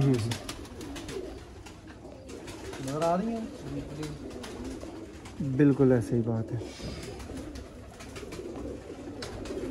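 Pigeons at a loft of Teddy pigeons, cooing in soft low bursts beneath ongoing conversation between men, with a couple of clearer coos standing out midway.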